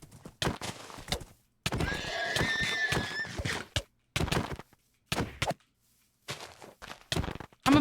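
Horses neigh and whinny in Minecraft, several loud bursts with gaps of silence between them, a long shrill whinny in the middle, with clip-clop hoofbeats mixed in.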